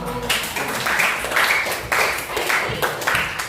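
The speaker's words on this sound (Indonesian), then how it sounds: "terima kasih, tepuk tangan dulu" Students in a ninth-grade Indonesian-language classroom applaud a classmate in several loud, close bursts of clapping, each swelling and breaking off in a choppy, uneven rhythm.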